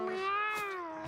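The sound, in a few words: cat meowing in the video game Mewgenics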